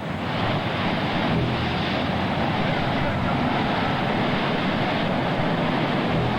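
Ocean surf and a rising tide on the Monterey shore, where a speedboat has washed ashore, make a constant loud roar of breaking waves mixed with wind buffeting the microphone, with no pauses.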